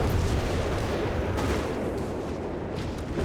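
Dense, rumbling artillery fire from a Company of Heroes 3 battle, with whiz-bang rocket salvos raining down: a continuous loud wash of booms and blasts with no clear gaps, heard without voices.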